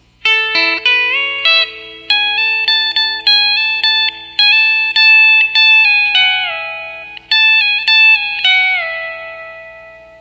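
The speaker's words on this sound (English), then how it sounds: "First line of the song sounds like this." Electric guitar with a B-bender plays the opening line of a song, country style, with plucked notes and bent double-stops rising into pitch, each attack ringing with slight effects, up close and alone for about ten seconds.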